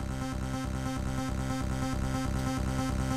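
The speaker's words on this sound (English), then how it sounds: "I've programmed the same rising effect with the free Osc synthesizer" Arpeggiated synth riser from FL Studio's free 3x Osc plugin, a fast repeating pattern of buzzy electronic notes pulsing in an even loop, dense and steady.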